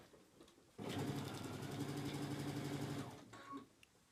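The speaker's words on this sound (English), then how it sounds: "So we're just going to sew the ends with a 1/2 inch seam allowance." A sewing machine stitches the ends of a two-way zipper placket in one steady run of about two and a half seconds, fairly faint, then stops; no talking.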